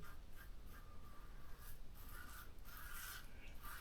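Rex Konsul slant adjustable safety razor making a second cross-grain shaving pass, a close, steady scratchy rasp of blade across stubble in short repeated strokes, with no talk.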